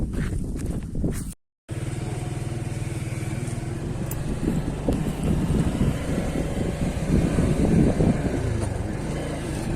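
A vehicle pulls away on a village road, its engine a steady, continuous rumble with wind buffeting the microphone and a brief dropout near the start.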